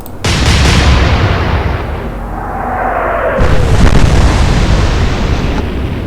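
Warship guns firing in the naval video game Atlantic Fleet, a loud deep booming blast that rolls on as a long rumbling roar with a second surge partway through, no voices.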